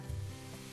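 Baking soda and vinegar fizzing while an oven is being cleaned, a brief soft hiss of bubbling heard up close for under a second, quiet with a low hum beneath and no talking.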